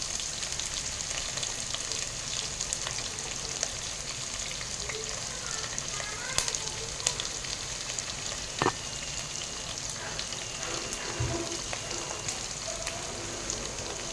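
Onions and green chillies fry in hot oil for poha, a steady crackling sizzle running without a break at moderate level, with a few brief sharper pops.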